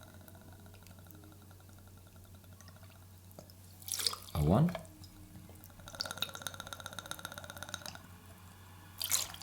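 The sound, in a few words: pouring gin into measuring jigger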